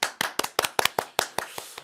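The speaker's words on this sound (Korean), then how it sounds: "여러분 박수 한번 쳐주세요." An audience claps in a steady, fairly quick run of about a dozen sharp, distinct hand claps that fade slightly toward the end, with no talking over it.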